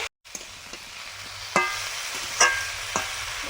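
Tomatoes fry in a hot pan on a home stove, a steady soft sizzle broken by a few sharp clinks and scrapes of stirring, close and without talk.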